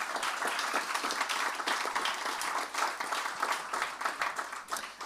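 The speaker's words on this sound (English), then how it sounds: "Can we give them a round of applause?" Audience applause at an ROTC commissioning ceremony, steady crowd clapping that holds for about five seconds in a large room, moderately loud with no talking.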